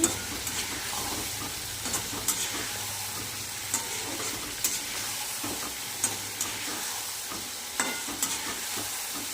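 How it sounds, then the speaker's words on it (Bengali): Potato and pointed gourd stir-fry in a pan as the base of a parshe fish curry, with a continuous sizzle broken by frequent scraping stirs and light clatter, close and moderately loud. "দেখুন আমি ভালো করে কষিয়ে নিচ্ছি।"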